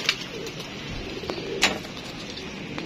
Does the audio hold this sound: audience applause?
no